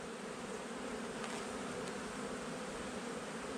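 Honeybees swarm around an open hive during an inspection, a dense, steady, close buzzing drone that holds evenly throughout with no voices.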